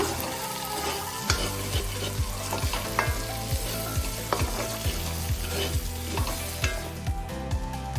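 Salted mutton pepper dry, Karnataka style, frying in a pan: continuous sizzle with regular rhythmic scraping strokes of a ladle stirring the meat, close up, no talking.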